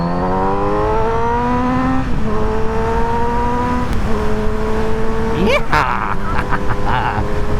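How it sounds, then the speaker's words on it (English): A four-cylinder motorcycle engine revs up through the gears on an open road, rising whine dropping at each shift, loud and close, with wind noise and a brief shout of excitement from the rider. "you've got to love a 4-cylinder bike, haven't you?"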